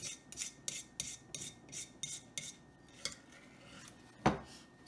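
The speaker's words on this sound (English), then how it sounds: "scrape the bowl." A small metal cookie scooper scrapes the inside of a bowl, about ten quick rhythmic rasping strokes at a low level, ending with a sharper clink.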